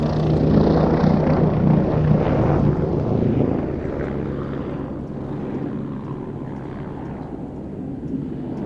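A helicopter flying an aerobatic display at the Midlands Air Festival 2025 roars overhead, its loud rotor drone swelling and then fading slightly as it maneuvers, with wind rumbling through the sound.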